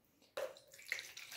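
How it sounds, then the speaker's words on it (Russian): Chlorella solution being poured into a container and topped up with water for watering orchids: a sudden start of running liquid that continues as a steady, close splashing pour, with no talking. "Так, наливаем хлореллу."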